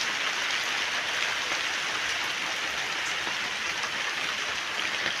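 Raindrops fall steadily onto the ground in a dense, even patter that stays at the same level throughout, with no voices.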